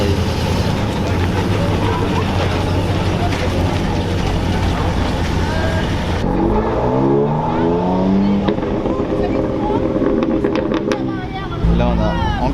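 An Alfa Romeo 4C sports car passes at a gentleman driver event where Lamborghinis are in the convoy. Its engine rises and then fades over steady traffic noise, and someone talks over it.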